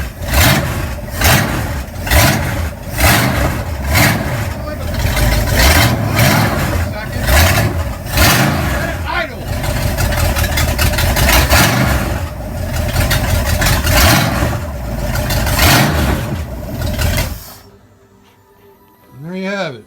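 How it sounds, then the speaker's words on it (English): A 1969 Pontiac Firebird engine fired up and revved from the cockpit, producing loud, close, repeated rhythmic rev surges over a rough idle. The engine then cuts off abruptly, leaving a brief quiet tail. "So here we go, we're gonna fire it up."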